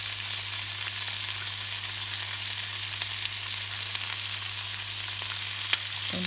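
Prawns sizzling in butter in a frying pan, a steady, even crackling hiss that carries on without a break, with a faint clink near the end.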